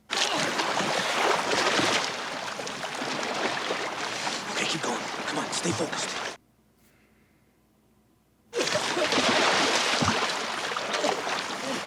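A boat pushes across a river at night in winter, its broadband splashing and water wash loud and steady, cutting out briefly to near silence before resuming; a voice speaks over the water.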